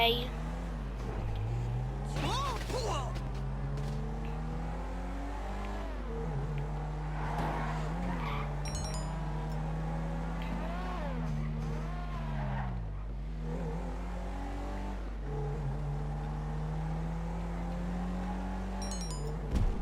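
Grand Theft Auto V car driving with a steady engine drone that rises and falls through gear shifts, broken by several short tire skids, continuous under a talking voice.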